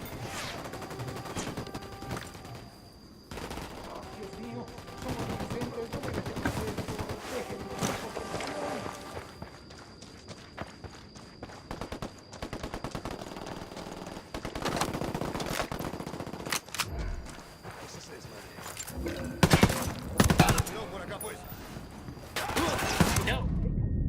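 Rapid machine-gun bursts and scattered gunshots crackle through a firefight with a sniper in the video game Wildlands, dense volleys rising and falling in loudness, with occasional footsteps and voices talking over the shooting.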